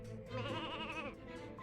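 A small cartoon sheep bleats once in Ratchet & Clank 2, a wavering, trembling call lasting about a second, close and fairly loud over background game sounds.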